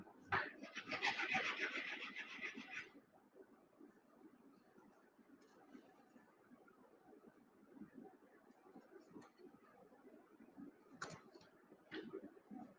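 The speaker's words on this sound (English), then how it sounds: "Need to sand this just a little bit more." A model part for a corner section and sub-floor is sanded by hand, giving soft, faint rasping strokes in an irregular rhythm after a brief louder handling noise at the start.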